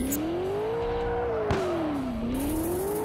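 Ford Mustang engine straining at top speed in Ultimate Car Driving Simulator 2, a loud continuous drone that rises and dips slightly in pitch with a brief bump midway, no talk.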